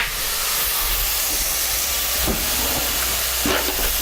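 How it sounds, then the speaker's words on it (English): Minced garlic hits a hot pan after onions, a loud, steady hiss that fills the clip evenly, with a few faint soft knocks beneath it. "Now I'm gonna put my garlic in, my garlic mint."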